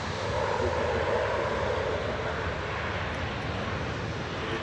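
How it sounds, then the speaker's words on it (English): An airliner takes off on the second runway at Manchester Airport, its engines a broad, steady roar that stays loud throughout with no voices. "The first takeoff of the show on the second runway."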